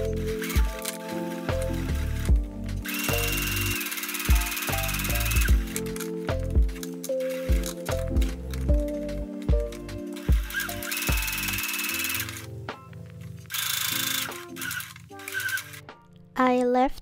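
A sewing machine stitches down the long edge of folded gingham fabric in quick mechanical bursts, stopping and starting close by with short pauses between runs.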